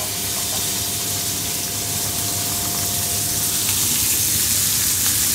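Scallops cook gently in butter in a pan over low heat, giving off a dense, even hiss that stays steady throughout with no talking.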